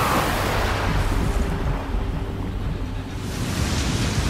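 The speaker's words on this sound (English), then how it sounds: "Water! It's a flood attack!" Loud, steady rush of churning flood water in the game Wo Long: Fallen Dynasty, with a deep, constant roar and no voices.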